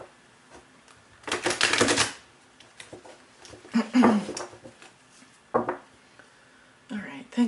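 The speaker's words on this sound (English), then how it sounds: "One more shuffle here" A deck of tarot cards is riffled and shuffled in a few quick bursts of papery flutter and slaps, close up, separated by short pauses.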